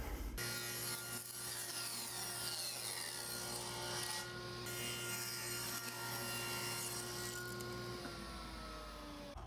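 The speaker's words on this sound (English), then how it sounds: "I'll line up the kerf of my blade with those marks I made and run this through" Miter saw blade bevel-cutting through a wooden board, a loud sustained whining buzz held steady for several seconds before the motor pitch drops as the cut finishes.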